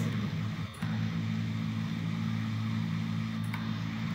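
An SBD-3 Dauntless plane in a video game taxis with a steady, loud propeller engine drone and low rumble, running continuously with no talk.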